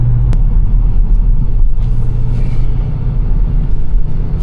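A Chevrolet Camaro SS drives along with a steady low engine rumble and road noise, loud and continuous throughout, with no talk.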